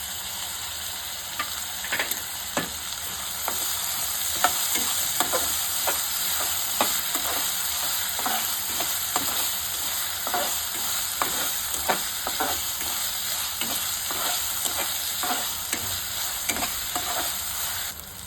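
Chopped onion and tomato frying in a pan for a mushroom masala, a continuous sizzle broken by regular scraping strokes of a spoon stirring, close and alone with no talk.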